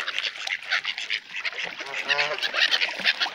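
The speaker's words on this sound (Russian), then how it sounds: "Ой, ну чайки. Чайки, пожалуйста, не надо." A noisy flock of seagulls calls and squawks close by in overlapping harsh cries, with a voice briefly heard among them.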